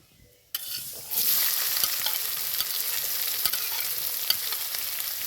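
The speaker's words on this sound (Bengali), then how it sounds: "পেঁয়াজ কিমাটাকে বাদামি করে ভেজে নেব" Minced onion hitting a pan of hot oil with dried chillies, a sudden loud sizzle that swells into steady, crackling frying with scattered pops, close by and with no talking.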